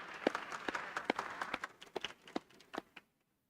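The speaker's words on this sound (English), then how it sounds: "I think this could be the first round of applause for your achievements" Scattered applause at a community college graduation ceremony: a modest number of separate, fairly faint claps patter irregularly and then stop abruptly, leaving silence.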